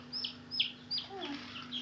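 Baby chicks peep in quick, high-pitched chirps, several short calls close by with a faint steady hum underneath and no voices.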